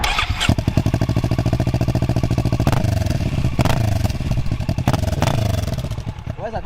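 A motorcycle engine runs close by with a loud, lumpy, pulsing idle, its throb shifting slightly, with a few sharp clatters over it.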